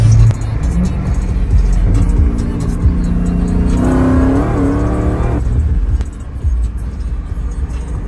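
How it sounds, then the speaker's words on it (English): A BMW M2 accelerates hard in a street race through traffic, with a rising engine roar and gear changes, loud and close amid a busy nighttime crowd. "Luis is gonna race that M2 right there"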